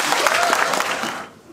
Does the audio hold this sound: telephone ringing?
no